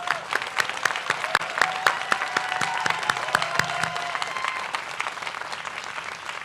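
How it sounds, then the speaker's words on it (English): A commencement audience applauds the staff, a full crowd of clapping with sharp individual claps standing out over the steady wash, moderately loud and continuous. "So a round of applause for all the staff that are helping with tonight's."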